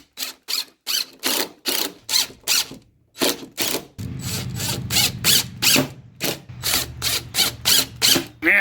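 Screws being driven into a 2x4 on a wooden duck coop panel, heard as repeated short bursts of a powered driver, close and loud, with a steadier continuous run in the second half.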